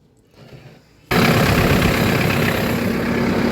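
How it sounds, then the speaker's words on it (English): After a quiet moment, a heavy loader tractor engine on a dairy farm roars to life and settles into a loud, steady, rumbling idle. "we got the loader tractor fired up."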